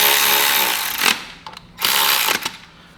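Dirt bike front axle pinch bolt tightened with a power tool: two loud buzzing ratchet bursts, each about a second long, with a few short clicks between them, close by.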